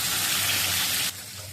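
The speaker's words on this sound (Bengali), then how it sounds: "বাইলা মাছগুলোকে একটু ভেজে নিচ্ছি" Baila fish fry in a pan with a loud, dense sizzling hiss that suddenly drops away to a quieter simmer near the end, with no talking.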